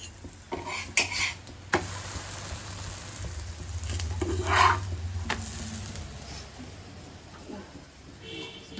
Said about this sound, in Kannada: ಒಬ್ಬಟ್ಟು ಸುಡ್ತಾ ಇದ್ದೀವಿ